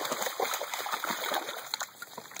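A four-month-old female Cane Corso puppy splashes in water on its first swim, quiet irregular sloshing and splatter with a steady background hiss.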